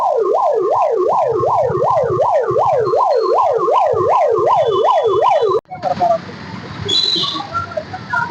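A loud ambulance siren, stuck in a heavy traffic jam, wails up and down in a fast, steady rhythm, then cuts off abruptly, leaving rumbling traffic noise and a few scattered horn-like tones.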